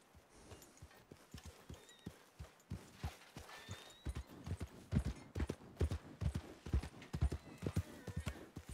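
Steady clip-clop of a horse's hooves walking at an even pace in Red Dead Online, close and fairly loud, with a few faint high tones in the background.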